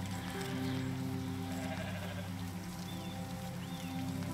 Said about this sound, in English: There's two little baby goats!